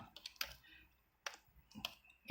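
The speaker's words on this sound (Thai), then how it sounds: "ทีนี้ครับพิมพ์คำสั่ง s อ่า sudo นะครับ" A command being typed on a computer keyboard for a Raspberry Pi console, a few sparse close key clicks separated by short pauses, quiet overall with a louder burst at the end.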